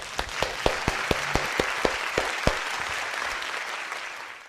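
Audience applause at a church workshop opening speech, a dense wash of clapping with distinct sharp individual claps early on, gradually thinning and fading out toward the end.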